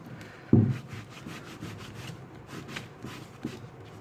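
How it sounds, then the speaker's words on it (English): Wood tint rubbed onto wood by hand makes a soft, close, repeated rubbing and swishing, with one louder bump near the start and a faint, steady scrubbing rhythm after. "So let me give this one also a rub."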